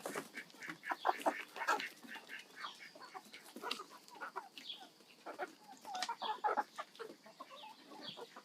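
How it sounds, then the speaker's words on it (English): Chickens cluck and murmur in a barnyard at Cromwell Valley Park, a farm setting, with a busy stream of short clucks and squawks, some close and some farther off, at moderate volume and with no talk. "Good morning, chickens."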